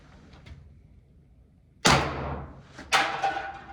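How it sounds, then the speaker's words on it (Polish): Two sharp, loud reports from a Walther PPQ T4E RAM pistol fired outdoors at an aluminium can, each a sudden crack trailing off over about a second, spaced roughly a second apart after a quiet lead-in. "Uwaga, będzie strzał."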